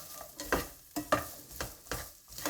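Garlic, onions and chilies stirred in a hot pan for enchiladas, with soft sizzling and a few distinct scraping strokes of a utensil at a steady, unhurried pace, close and moderately quiet, no voices.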